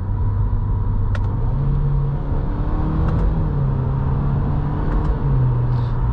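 A 2023 Subaru WRX GT with the Subaru Performance Transmission hums along under way, its engine a steady, close, loud drone with brief pitch steps as gears change and no talking over it.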